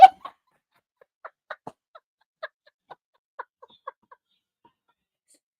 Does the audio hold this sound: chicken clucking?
yes